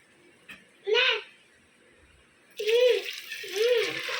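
Hot water is poured over kabuli chickpeas to soak them in a home kitchen, the splashing pour rising in two loud bursts between voices heard speaking.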